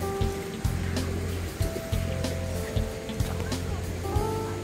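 A stream rushes through Neunggang Valley in Jecheon, North Chungcheong, giving a steady, broad wash of flowing water that continues throughout with small splashy accents.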